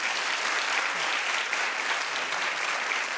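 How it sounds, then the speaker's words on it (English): A television talk-show studio audience claps in a thick, even wash of applause, sustained at steady volume for the whole stretch with no voices over it. "Clap if you're confused."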